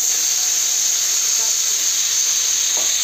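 Fish pieces dropped into a hot kadai (wok) sizzle loudly with a steady, bright hiss that holds evenly throughout, close up.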